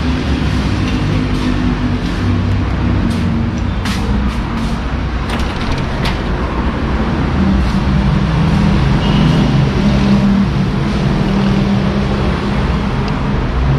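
Steady roadway traffic rumble beside a highway, with vehicles passing continuously and a constant low drone throughout, no talking.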